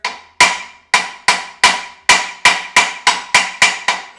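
Metal clanks ring out as a hammer strikes a part of a GM 8.2 10-bolt differential, about a dozen sharp, evenly spaced blows, each leaving a bright, high ringing tail, close and loud with no talking.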